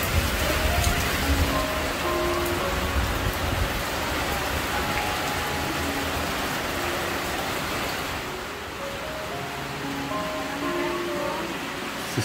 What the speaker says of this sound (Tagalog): Nabasa sila ng ulan.